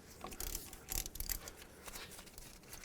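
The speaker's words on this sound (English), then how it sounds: "14mm socket, remove both of these 2 bolts." A ratchet fitted with a 14mm socket clicks while loosening brake caliper bolts on a 2003-2012 Nissan Murano during a front brake job, giving short bursts of close, rapid ratcheting with no talk.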